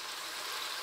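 Tamarind juice pouring into a pot for Karnataka-style bisi bele bath, a brief continuous hissing trickle of liquid heard alone.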